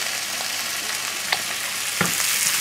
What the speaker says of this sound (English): the beans will go in here with a little olive oil